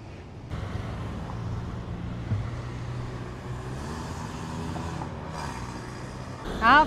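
A Biblioglobus tourist bus passes close by on a Pattaya street near the Pattaya Park hotel, its engine a steady, loud low rumble lasting several seconds amid wind and traffic noise, then fading just before a brief sharp clatter at the end.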